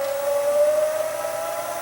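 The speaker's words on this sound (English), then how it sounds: "As you can hear, it's really struggling to rewind this tape." A Toshiba DVR7 VCR/DVD recorder labours to rewind a bad tape, giving off a steady, slowly rising mechanical whine that holds alone and unbroken throughout.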